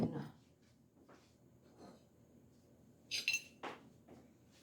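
Dishes being washed by hand, cutlery and pots clinking in a sink: sparse soft knocks and one brighter metallic clink, quiet and close, with faint speech in the background.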